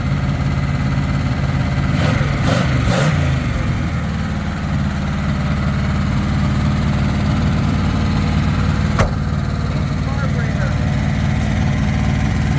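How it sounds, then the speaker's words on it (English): A boat engine fitted in a Bronco, running on a Holley carburetor that is hard to adjust, idles with a loud, steady, close drone. A few sharp clanks come early and a single click comes later. "It's got a Holley carburetor, and he's having a hard time with the adjustment, trying to get it to idle down."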